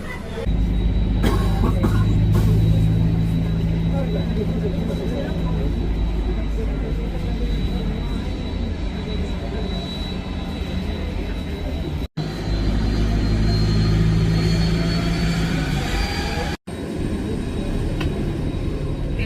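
Aircraft engines rumble steadily on the apron of the new Jorge Chávez Airport in Lima, a loud continuous drone with a faint high whine, seemingly heard from inside a bus, with brief cutoffs near the end.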